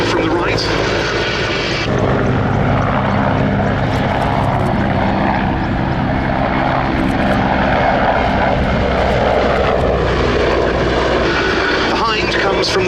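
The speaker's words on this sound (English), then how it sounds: "Bringing them in from either end of the display line for an initial crossover, Mi-35 from the left, Mi-171 from the right." A Mi-35 and a Mi-171 helicopter cross over in a flying display at the Duxford Battle of Britain Airshow. Their engines and rotors roar loudly and continuously, with a commentator talking over the noise.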